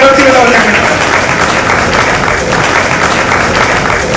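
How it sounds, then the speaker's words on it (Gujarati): A crowd at a women's wing celebration event fills the room with loud, dense, continuous applause. Voices mingle through the clapping from start to finish. "બધા એકબીજા માટે જોરદાર તાળીઓથી ગણગણાટથી બતાવશે"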